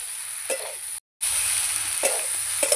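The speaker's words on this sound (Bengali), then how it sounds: "ঝিঙে, আলু, মশলা একসঙ্গে কষাবো।" Ridge gourd and potatoes cook with spices in a pan, giving a steady sizzle broken by a few louder stirring scrapes and one brief silent gap, with no talk.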